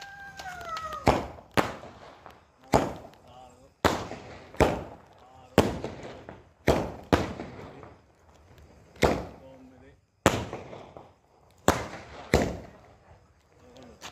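Diwali firecrackers exploding one after another, around a dozen sharp loud bangs spaced irregularly with brief echoing tails, while people talk in the background between blasts.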